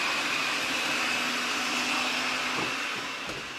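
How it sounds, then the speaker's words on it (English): A food processor blends pesto ingredients with a loud, steady whirring roar that holds at an even pitch and eases slightly near the end, with no voices. "That food processor is really loud."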